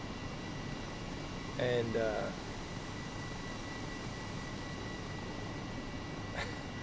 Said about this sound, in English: Let's use the C-17 and let's try